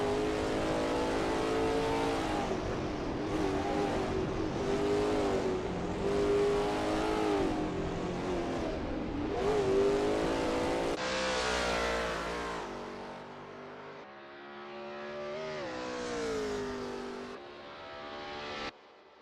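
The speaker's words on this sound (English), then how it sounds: "Simon of the Desert is expertly commanding that car through Repass Pass." Lola T70 MkII Spyder race car in a racing video game at Willow Springs, its engine revving loudly and continuously, pitch rising and falling through gear changes and corners, with a brief lull near the end.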